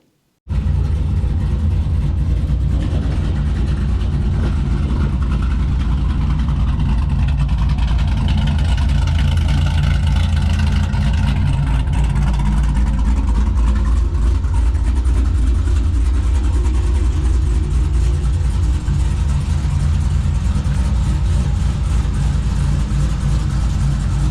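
A 1966 Chevelle pro street muscle car's engine runs steadily and loudly at close range, a deep continuous rumble with slight swells in revs and no talking.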